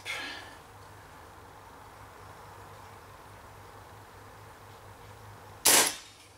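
A single sharp crack from a Dan Wesson 715 .177 pellet air pistol striking a pop can rings out near the end, loud and close over a steady low background hum.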